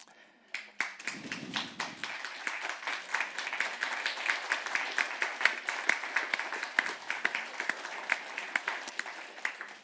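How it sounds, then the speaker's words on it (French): Audience at a French-language conference breaks into applause, sharp individual claps building quickly into a sustained, lively round that stays fairly distant and moderate in level; a brief murmur of voices comes near the start. "C'est vous tous, c'est nous tous qui nous applaudissons."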